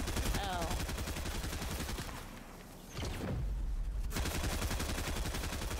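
Sustained rapid gunfire in a battle royale video game, dense repeated shots that dip briefly and then resume at full intensity.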